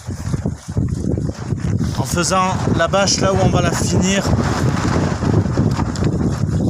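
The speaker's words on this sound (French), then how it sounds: "aujourd'hui il y a beaucoup de vent" Strong wind buffeting a microphone outdoors on a boat during template-making for a camping cover, a steady roar of gusts throughout beneath someone talking.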